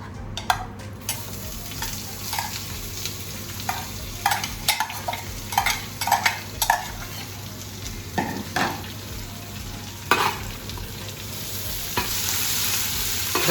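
Two onions fry in oil in a pot as the first step of a mutton yakhni pulao. A steady sizzle runs under repeated scrapes and clinks of a spoon stirring, with no talking.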